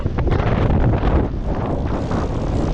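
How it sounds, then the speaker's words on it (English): Strong wind gusts across an open field, roaring and buffeting the microphone in a dense, continuous low rumble that stays loud throughout the short stretch, with no voices. "This wind! It's blowing all our straw away."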